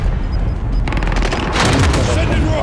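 A rocket explosion in Call of Duty Warzone Rebirth: a low rumble gives way to a burst of rapid crackling blasts that swells into a loud, broad boom in the final second.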